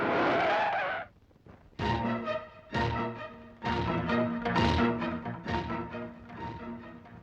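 A car braking and skidding to a halt in a Malayalam film scene, a loud tire screech at the start, then a short silence before a series of harsh, tonal engine or horn-like bursts.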